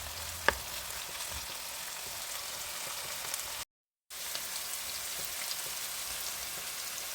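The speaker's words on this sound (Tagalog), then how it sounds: "Pagkatapos, haluin na natin ulit para mag-mix ang lahat ng ingredients." Sotanghon glass noodles stir-frying with soy sauce for sotanghon guisado give off a steady, even sizzling hiss with one sharp tap early on and a brief dead-silent gap midway, no voices.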